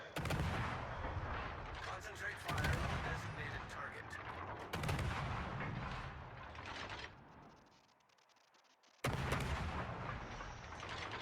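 Naval gunfire and artillery in a war video game boom in heavy, rumbling salvos with crackling shots layered over one another, a loud sustained barrage that drops away for a moment before another blast resumes.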